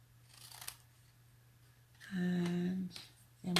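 Scissors snip through thin cardstock along a missed score line, a few soft clicks followed by a louder, steady cutting stroke near the mic, with no talking.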